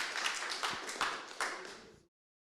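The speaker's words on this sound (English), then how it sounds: "Yes, we clap." Conference attendees clap after an opening session, a short dense burst of hand claps with a few stronger accents that stops abruptly after about two seconds.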